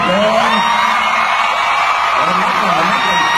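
An audience at a live concert screams and cheers in a loud, continuous roar of high-pitched shrieks, with a voice calling out over the crowd.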